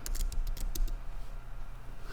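A computer keyboard clicks in a quick burst of keystrokes for about a second, then stops, leaving a steady low room hum.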